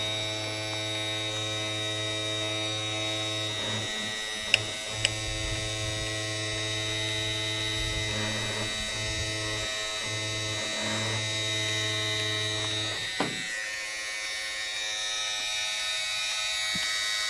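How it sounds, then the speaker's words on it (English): Electric windshield wiper motor from a 1989 Dodge W100 running on the bench, a steady close electric hum and buzz with a few small clicks and a knock, no voices. "I'll run the motor a little bit and see if it gets hot."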